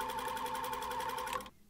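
Sewing machine top-stitching elastic into an underwear waistline, a fast close mechanical stitching rattle with even rhythm that runs steadily, then stops abruptly near the end.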